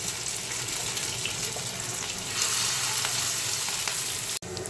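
Spinach and mustard greens chops frying in hot oil, a steady, dense close sizzle and crackle throughout that swells slightly midway, with no talking.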